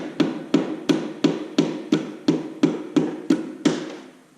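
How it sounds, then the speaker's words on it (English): A rubber mallet strikes an engine's metal dipstick tube about ten times in a steady, even rhythm, each blow a dull, close thud. "Well, we'll start with a rubber mallet and see if I can destroy that."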